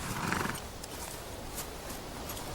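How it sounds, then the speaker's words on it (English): A horse whinnies and snorts amid steady hoof clip-clop, close and fairly loud against a busy outdoor background, with no talk. "Tony, what are you doing with a horse"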